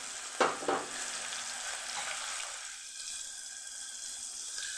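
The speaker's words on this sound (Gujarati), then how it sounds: "અહીંયા આપણે એક ડુંગળીનો ગાંઠિયો લીધો છે એને હોતરવા" An onion frying in hot oil with asafoetida in a tempering for a spicy Kathiawadi vegetable dish, giving a quiet steady sizzle with a couple of sharp utensil clinks near the start.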